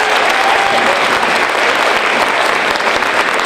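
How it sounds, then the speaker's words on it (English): An audience at a high school poetry slam applauds a poet after the scores are read, a loud, dense wall of clapping that stays steady and close from start to finish. "Let's applaud our poet"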